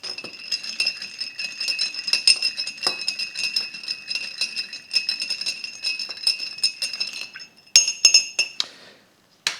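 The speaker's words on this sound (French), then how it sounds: "Je vais mélanger le cocktail pendant une dizaine de secondes, juste le temps de refroidir." Ice clinks and rattles against glass as a cocktail is stirred, a dense, continuous run of bright chinks for several seconds that ends in quiet.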